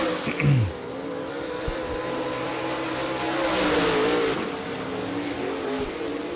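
Race cars on a dirt-track oval circuit at a county raceway during a practice session, engines droning steadily at a distance with a brief nearer swell and a passing rise in roar midway.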